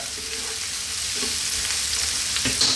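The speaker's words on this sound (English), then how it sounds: "Let this go for now for about just 3-4 minutes max. Give it a stir every now and then." Onions fry in a pan as the base for a meat pasta sauce, a steady close sizzle with a few soft clanks of a stirring utensil, heard alone without talk.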